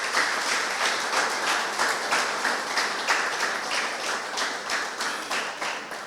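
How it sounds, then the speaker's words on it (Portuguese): Audience at a book launch at the Instituto Camões applauds the book's presenter, a sustained round of many hands clapping with slight swells and a gradual fade near the end, no voices on top. "uma salva de palmas para ele"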